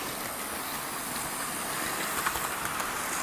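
A model train runs steadily around a Christmas layout, giving a continuous hissing, whirring noise with faint clicking on the track, close and unbroken.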